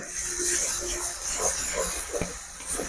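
Ginger-garlic paste fries in a pan for paneer butter masala with a steady, loud hiss and sizzle, broken by a few soft stirring scrapes, close up.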